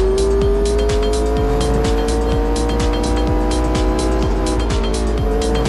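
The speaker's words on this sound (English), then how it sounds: "Got the Lamborghini Huracan, Permonte, if I'm pronouncing that one right." A Lamborghini Huracan Performante in the racing game Real Racing 3 revs hard through repeated gear shifts, its loud engine whine rising and dropping steadily with no talk over it.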